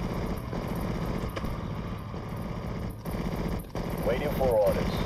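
Machine gun fire in the World War II strategy game Steel Division: Normandy 44, a sustained rattling stream of rapid shots under steady battle noise, with a few sharper bursts toward the end.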